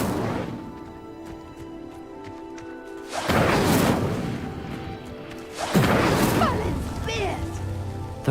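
An Incendio fire spell in a Hogwarts video game sets a pyre alight: two loud, roaring whooshes of flame burst out a few seconds apart, each fading into a crackling rush.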